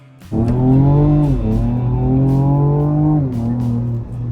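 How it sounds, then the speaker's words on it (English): A Ford Ranger Raptor pickup in Baja mode accelerates at full throttle with a loud, close, continuous engine roar whose pitch climbs steadily and briefly dips twice, like gear changes, before rising again. "put it on Baja mode, floor the throttle, and never look back"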